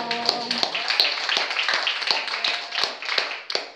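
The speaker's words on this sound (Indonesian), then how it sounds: "tepuk tangan dong" Scattered audience clapping at a sales presentation, a series of distinct sharp claps spaced irregularly over a few seconds, moderately close, with faint voices underneath.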